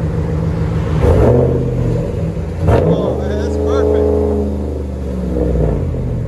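A RAM 1500 5.7L HEMI truck engine with a Flowmaster 40 Series exhaust revs hard several times against the rev limiter, climbing and dropping in pitch, loud and close, with a voice talking over it.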